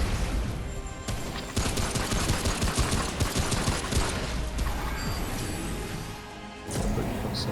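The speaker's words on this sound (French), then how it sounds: "Je joue au petit flingue pour récupérer mon soin" Small gun firing in the video game Remnant: From the Ashes, rapid continuous bursts of shots in a dense, loud barrage lasting several seconds with a short break partway through.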